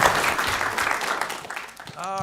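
Applause at a city council meeting in North Augusta fills the room as a continuous, moderately loud patter of many hands, fading near the end as a voice begins speaking.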